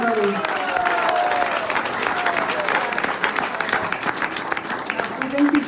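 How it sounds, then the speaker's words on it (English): Dense applause from a crowd after a religious lecture in Australia, steady clapping that fills the space throughout with a few voices mixed in. "One more round of applause for His Holiness BB Govinda Swami, everybody"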